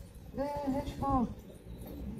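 A bird, probably a pigeon, gives two short, close, tonal calls with a brief pause between them, over faint background noise.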